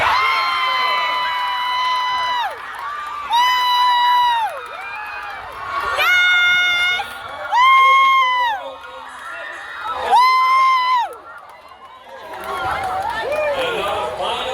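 A crowd at a cheerleading competition final cheers for the Spain Park cheer team, with loud, sustained whoops and high-pitched shouts rising and falling in bursts, children's voices among them.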